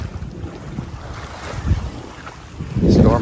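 Thunderstorm wind gusts roar across Pine Key island (Beer Can Island) in Tampa Bay, Florida, with rushing wind noise on the microphone and surf, swelling louder near the end.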